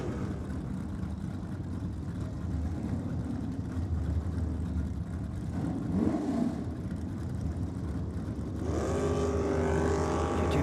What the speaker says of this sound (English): John Kerr in the Rocket Lane in the 63 Comet. And Alan Stevenson in HB Tirana.